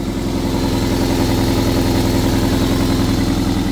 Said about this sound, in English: I'll let you listen to that engine